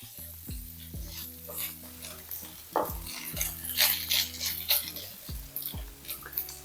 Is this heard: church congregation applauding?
no